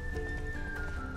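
Geralt's horse Roach galloping in The Witcher 3: brief, quick hoofbeats under a sustained tonal game soundscape, with a faint whinny-like edge and no speech.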